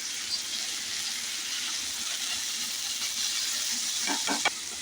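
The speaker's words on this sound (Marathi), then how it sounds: "थोडंसं आपण पाणी घालूया याच्यात" A spoonful of water hits vegetables for spicy vermicelli upma in a hot pan, giving a steady, close sizzling hiss with a few brief stirring scrapes near the end.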